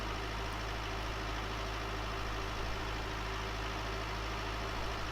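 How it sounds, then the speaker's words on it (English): Tractor engine in Farming Simulator 19, towing a lighter load, drones steadily with a low idling-like rumble and constant vibration, unchanging and fairly loud throughout, with no talk. "the tractor's picking up speed that little bit better"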